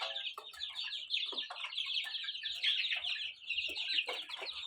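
Young chicks in a new coop cluck and cheep continuously while pecking at one another, a busy, close chorus of short high calls with no talk.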